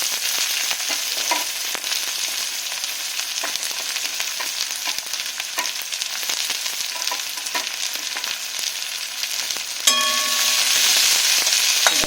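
Chopped onion and green chili fry in a pan for a fish curry, giving a loud, dense, steady sizzle heard close up, which flares louder near the end.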